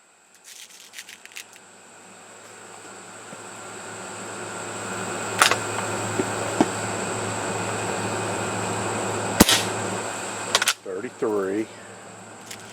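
A QB78 CO2-powered air rifle fires several sharp, isolated cracks spaced seconds apart over a steady background hum, each shot short and clean, the last ones followed by faint rattling.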